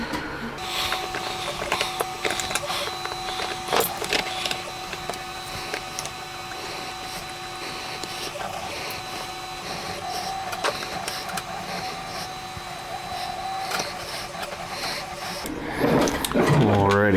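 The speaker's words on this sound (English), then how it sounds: "go ahead and put all of our screws back in" Screws are driven back into a CMMG rifle magazine, a high mechanical whirring that runs steadily throughout and ends with a louder burst, while someone talks.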